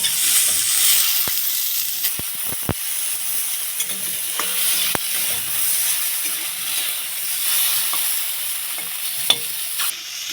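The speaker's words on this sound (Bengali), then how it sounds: "টমেটোগুলো ভাজা ভাজা হয়ে গেছে" Raw green tomatoes frying in a pan without salt or turmeric give off a steady sizzling hiss, broken by sharp scraping and clicking strokes as they are stirred, with no voices.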